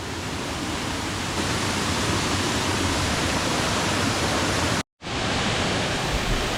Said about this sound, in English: There's a big waterfall here, but then also a waterfall going down here.